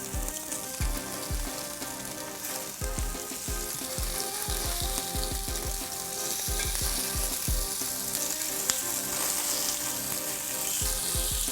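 Veal cutlets sizzle steadily in a frying pan, a dense, constant crackle of hot fat with scattered sharper pops and soft knocks from the pan, fairly close and with no talking.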